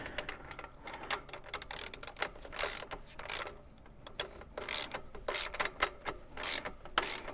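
Ratcheting clicks and metallic mechanism sounds from a tool tightening the rear axle nut on a Surron Ultra electric bike, a run of irregular quick bursts, close but fairly quiet with no talking.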